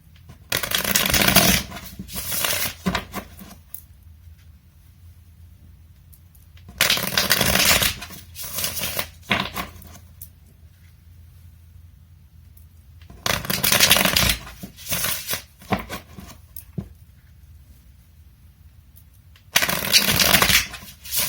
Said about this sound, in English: I got into that whole trance thing where I shuffle the cards.